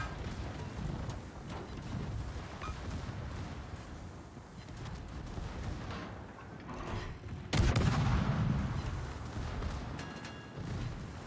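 Naval artillery firing in the warship battle game World of Warships, with a dense, continuous rumble of distant booms and one heavy, loud blast standing out partway through.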